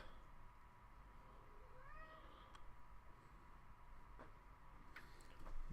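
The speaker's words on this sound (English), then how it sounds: "Those of you that can hear my cat in the background, he is making a ruckus." A pet cat meows in the background, a few faint drawn-out rising calls and a short yowl behind a low steady hum indoors, with no talk over them.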